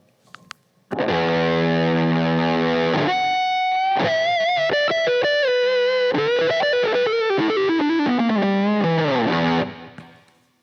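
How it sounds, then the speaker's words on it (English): A Fender American Ultra II electric guitar on its neck pickup through fuzz, playing a loud, sustained saturated chord and then a bending, descending lead phrase that cuts off abruptly at the end. "neck pickup, 1, 2, 3 gain stage, fuzz."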